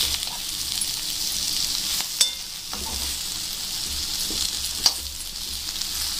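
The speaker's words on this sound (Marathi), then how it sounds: "त्याला आपल्याला अजून थोडं फ्राय होऊ द्यायचं आहे बारीक गॅसवरती" Stuffed okra (bharli bhendi) frying on low gas, a steady soft sizzle close by with a couple of sharp pan clicks, no talking.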